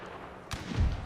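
Cannon fire in the historical battle strategy game Pike and Shot, Ottoman against Poland: a single muffled distant boom with a low rumbling thud trailing off briefly.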